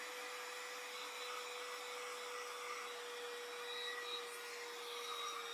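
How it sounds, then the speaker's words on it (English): A vacuum cleaner runs nearby with a steady, high whine, sucking up the debris left behind by a chainsaw. "Luckily, I had this vacuum lying around so I could, you know, pick up the mess that the chainsaw made."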